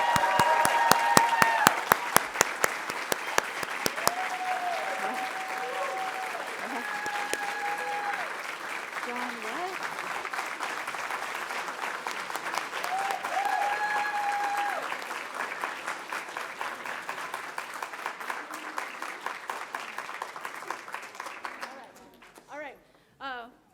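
A large audience at a graduation hooding ceremony applauds continuously, dense clapping that swells and holds before fading out, with a few scattered claps at the end.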